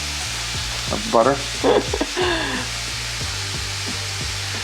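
Onions frying in a pan for homemade In-N-Out style cheeseburgers, a steady sizzle running throughout with brief bursts of people talking over it near the middle.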